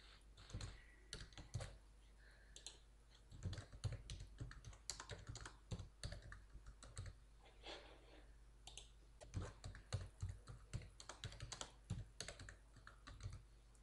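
Typing on a computer keyboard while filling in payment order fields in accounting software, a long run of quick, close, quiet keystrokes in uneven bursts with brief pauses, over a low steady hum.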